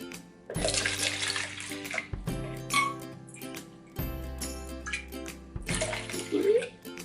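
Hot water is poured into an empty container in splashy, gurgling bursts that stop and restart several times, close to the microphone.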